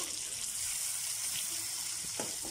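Quail pieces deep-frying in hot oil, a steady broadband hiss and crackle that runs the whole time with a few soft clinks as the pieces are turned over.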